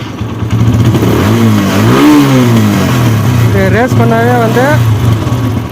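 An engine is revved while battery charging is checked with a multimeter, its steady running sound rising and falling in pitch beneath someone talking close by.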